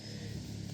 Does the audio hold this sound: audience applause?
no